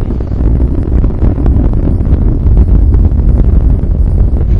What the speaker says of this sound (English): Engines beginning to rev up.